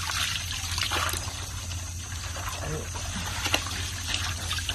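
Tap water trickles and splashes steadily while pork is washed for homemade sausages, a continuous moderate wash of running water with faint handling noises and no talk.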